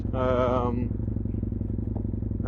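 Husqvarna Nuda motorcycle engine running close by with a steady, throbbing idle throughout, while a voice speaks briefly over it at the start.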